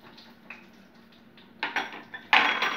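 Black mustard seeds dropped into hot mustard oil in a pan, faint clinks first, then two louder crackling, spitting bursts with light metallic rattles, close up, no talking.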